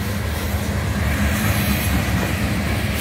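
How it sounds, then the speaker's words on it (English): A long CN ballast train led by ET44AC and ES44AC locomotives rolls past close by, giving a loud continuous rumble and roar of wheels and railcars with no speech. "This is a long ballast train."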